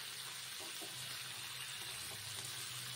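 Bitter gourd frying slowly in a pan over a low gas flame, a steady soft sizzle and crackle with faint stirring, close and continuous without talk.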